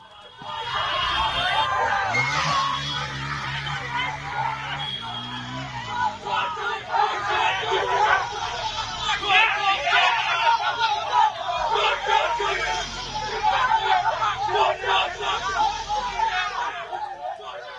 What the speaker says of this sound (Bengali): তৃণমূল কংগ্রেস কর্মী সমর্থকেরা চোর চোর স্লোগান দিতে থাকেন